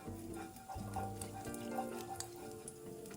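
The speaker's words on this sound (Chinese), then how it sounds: "油热后，再加入蛋液，快速炒散。" Beaten egg hits hot cooking oil in a wok and is stirred quickly for fried rice, giving a sudden sizzle that settles into steady frying crackle with scraping stir strokes, close and moderately quiet.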